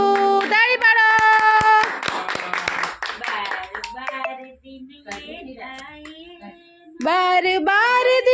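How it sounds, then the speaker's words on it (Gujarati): Hands clapping along at a birthday party while a group sings in bursts, the rhythmic claps loud and close, mixed in under the singing voices and fading in the middle before picking up again. "તાળી પાડો"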